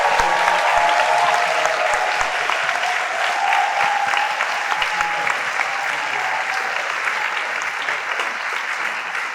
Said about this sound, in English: give another round of applause for our speakers